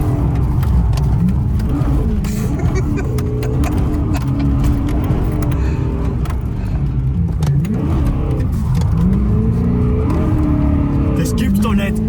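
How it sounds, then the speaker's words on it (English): A BMW 1M Coupe swapped to an S65 V8 revs hard while drifting, its engine note repeatedly climbing and falling in loud, close sweeps, with excited voices talking over it throughout. "You really need a lot of RPM to get this car to go sideways."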